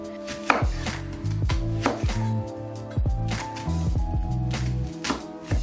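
A knife chops through an onion on a board for soup, a fast run of close, crisp thuds in an uneven rhythm with no talking.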